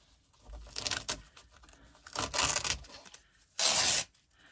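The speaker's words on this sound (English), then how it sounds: "We are going to be working with the loop side, which is the softer piece, so peel them off." Backing is peeled off soft loop-side hook-and-loop fastener strips for a backpack side panel in several separate close tearing and crinkling bursts, the last one loudest and sharpest, with quiet gaps between and no talking.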